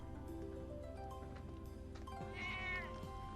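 A cat meows in the video game Trails of Cold Steel, a short, faint mew rising near the end over quiet game music.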